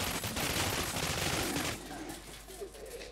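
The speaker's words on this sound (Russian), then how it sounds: "эта водометная пушка очень помогает экономить патроны. Потому что она пользует сосульки." Rapid, dense bursts from a water cannon firing icicles in the video game Anabiosis, a loud rattling volley that cuts off after about a second and a half, leaving a quieter tail with no talk.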